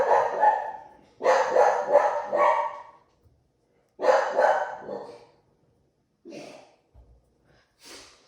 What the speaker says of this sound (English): Sorry, there are some dogs here.